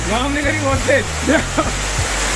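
A loud, steady wash of pouring heavy rain fills the background while someone talks over it up close.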